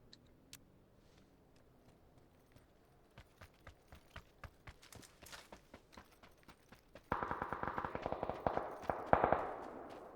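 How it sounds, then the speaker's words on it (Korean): Distant gunshots ring out in a video game as a series of sharp, regularly spaced cracks, growing into a quicker, louder burst of rapid fire toward the end. "총소리 들리죠?"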